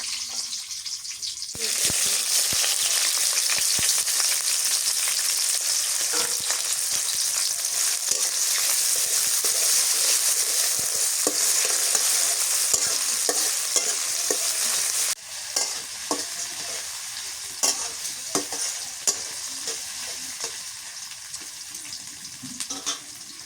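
Whole spices — bay leaf, cinnamon, black cardamom and cloves — fry in hot oil with a loud, steady, close sizzle that holds for most of the stretch, then eases a little while occasional stirring scrapes and clicks come through.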